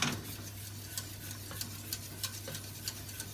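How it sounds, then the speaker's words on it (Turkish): A spoon stirs pudding mix with five glasses of milk in a pot on the stove, giving soft, faint, regular scraping ticks over a low steady hum. "ocağın altında karıştırıyorum"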